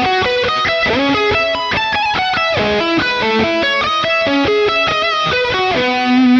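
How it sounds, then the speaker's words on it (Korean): Electric guitar played through a BOSS Katana:Go amp with a Tube Screamer drive, SD3000 delay, chorus and added reverb, a steady run of melodic picked notes ringing into a spacious tail, loud and alone. "공간감을 더 주기 위해서 리버브를 추가하겠습니다."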